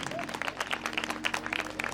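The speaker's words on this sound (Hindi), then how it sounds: "एक बार तालियां कमल भाई के लिए होनी चाहिए।" Steady crowd applause at a Durga jagran devotional event, many hands clapping together in a dense, continuous patter at moderate distance.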